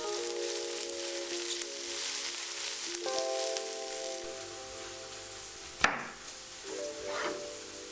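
Onions fry in a pan for vegan onion mushrooms, a soft continuous sizzle with a tonal hum running underneath and a single sharp clink partway through, followed by a few lighter stirring scrapes.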